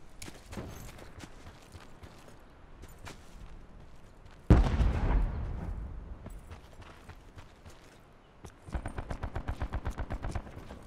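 Gunfire in the Call of Duty: Blackout battle royale video game: scattered single shots, a heavy explosive blast midway that fades out, then a rapid, evenly paced burst of automatic fire at the end, close and loud.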